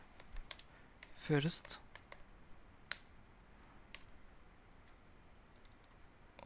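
jQuery code being typed on a computer keyboard: quiet, irregular key clicks, a quick burst of rapid keystrokes, then scattered taps, with a brief spoken word.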